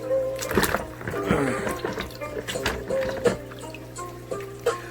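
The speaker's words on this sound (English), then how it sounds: "Rinsing your rocks, make sure that any dirt, any debris, anything that was sprayed on it comes off of it." Water splashing and trickling as large aquarium rocks are rinsed for a 29-gallon fish tank, with irregular close splashes and some clatter.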